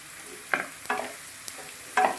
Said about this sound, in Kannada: ಇದು ಚೆನ್ನಾಗಿ ಈರುಳ್ಳಿ ಎಣ್ಣೆಯಲ್ಲಿ ಬೆನಿಬೇಕು. ಹಸಿಮೆಣಸಿನ್ಕಾಯಿ ತೊಗೊಂಡಿದ್ದೆನಲ್ಲ, ಹಸಿಮೆಣಸಿನ್ಕಾಯಿ ಹಾಕ್ತಾಯಿದ್ದೀನಿ.